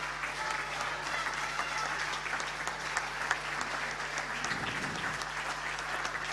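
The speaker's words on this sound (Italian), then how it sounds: "Un grande applauso per Gianmaria Roncato di Sport Life." An audience at a Paralympic sports gala in Veneto gives a swimmer sustained, even applause, with a low steady hum running underneath and no talk.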